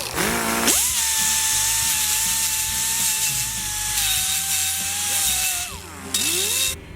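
A power tool whines steadily at a high pitch as it grinds drilling burrs off a metal brake rotor, spinning up at the start and winding down near the end.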